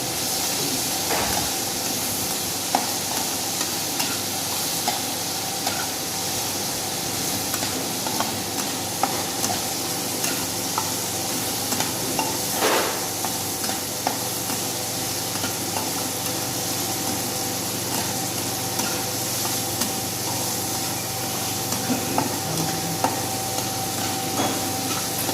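Mushrooms stir-frying in a pan in a hotel-management institute kitchen, with a steady close sizzle and hiss throughout, scattered scrapes and clinks from stirring, and no talk.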